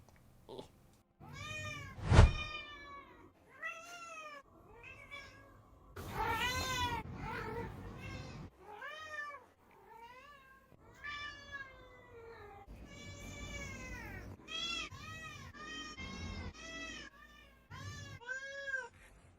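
A house cat meows and caterwauls repeatedly over about twenty seconds, a steady run of drawn-out, wavering cries at close range with one loud thump partway through.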